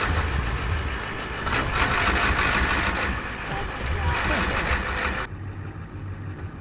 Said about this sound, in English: Just trying to back out of flat ground because it's sitting in the mud and it's only 2-wheel drive.